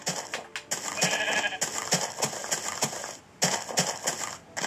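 Minecraft sheep bleat in a dense, repeated chorus of short cries over busy background noise, steady throughout.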